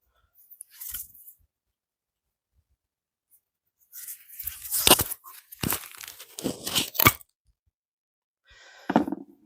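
Old fuel line being cut with a new knife: a few close, sharp crunching and tearing bursts separated by silence, dry and scraping, with no talk.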